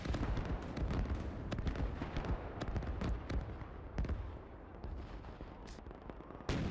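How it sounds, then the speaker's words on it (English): German rocket artillery firing in the Gates of Hell war game: a rapid, rumbling barrage of blasts and crackling detonations, moderately distant, rolling on without a break. "Whoa, heavy guns. Rocket artillery."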